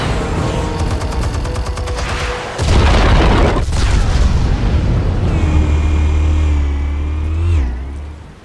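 Explosives detonate in Batman: The Telltale Series with a loud, sustained rumbling boom and crackling debris, preceded by rapid mechanical clicking and followed by a deep low roar with a rising whine.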